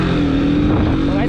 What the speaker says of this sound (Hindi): बस ये है अपना RC 200 का एग्जॉस्ट नोट, काफ़ी अच्छा है यार